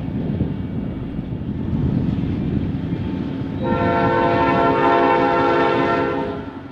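Chicago, Fort Wayne & Eastern EMD locomotive 2095 rumbles past, then its P5A horn, sounding rough and sick, sounds a loud, sustained chord over the rolling train noise for the last few seconds.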